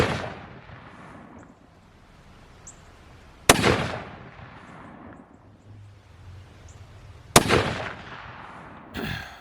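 Three sharp, loud rifle shots from a 270 WSM ring out several seconds apart on an outdoor range, each trailing off in a long echoing decay with no voices.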